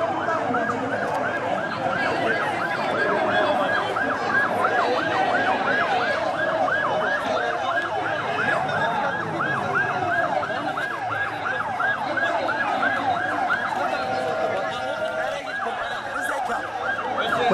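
Emergency vehicle sirens wailing at the scene of a paint warehouse fire in Reyhanlı, a fast repeating up-down wail, loud and continuous, over crowd and traffic noise.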